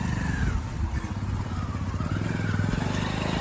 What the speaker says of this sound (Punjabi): ਆ ਫੋਰ ਟਰੈਕਟਰ ਆ 3600। ਇੰਜਣ ਹੈਗਾ ਆਪਣੇ 6055 ਦਾ ਕਮਰਸ਼ੀਅਲ। ਜਨਰੇਟਰ ਦਾ ਟਰਬੋ ਫਿੱਟ ਆ।